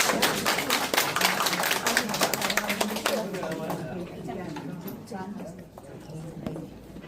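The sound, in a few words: audience applause at a charity ambassador ceremony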